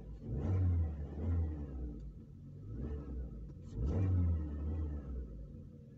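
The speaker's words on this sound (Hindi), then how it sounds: "और इसको जरा सा रेव कर देते हैं।" First-generation Maruti Suzuki Ertiga with a 1.4 VVT petrol engine revving twice, each rev rising into a smooth, low hum before settling back to a quiet idle, fairly faint and steady.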